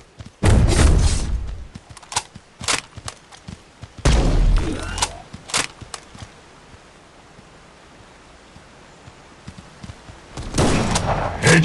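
Bursts of gunfire from the mobile shooter game Guns of Boom, several loud volleys of rapid shots with short gaps between them, the heaviest near the start, at about four seconds and at the end.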